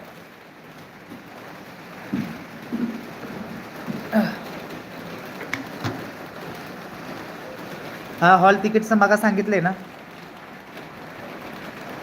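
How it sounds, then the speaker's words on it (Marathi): Steady rain falls throughout as a soft, continuous background hiss, while someone talks over it in short bursts. "पाऊस चालू आहे"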